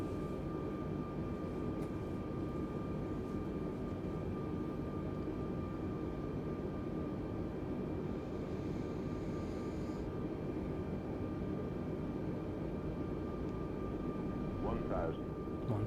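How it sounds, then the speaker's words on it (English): An Airbus A320neo in Wizz Air livery flies a final approach into Thessaloniki in Microsoft Flight Simulator 2020. A steady, low engine and airframe drone holds unchanged throughout. "And then just slowly guide the aircraft in the rest of the way."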